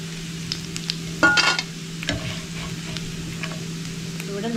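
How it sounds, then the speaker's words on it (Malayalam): Dried fish frying in hot oil for a Kerala-style dry fish chammanthi gives a steady close sizzle, broken by a few louder clatters and stirring scrapes along the way. "മീൻ നന്നായി നമ്മൾ വറുത്തെടുത്തിട്ടുണ്ട്."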